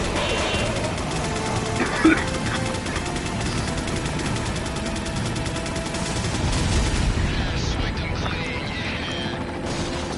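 Gunfire from the game Resident Evil 4 under a busy mix of other noise, with a few sharp shots amid steady rumble, while someone talks over it.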